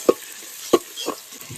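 Onion and garlic sauté in a hot pan, with two sharp stirring scrapes and a softer third one over a low, steady sizzle.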